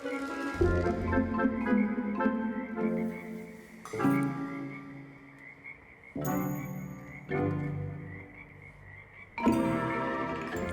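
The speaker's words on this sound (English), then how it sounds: "the evening was Ellie befriending this large frog" A large frog croaks repeatedly on a three-acre rural property at night after flooding, the loud, rasping calls coming in long bursts with short breaks, close by and with no talk over them.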